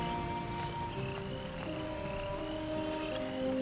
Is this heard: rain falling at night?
yes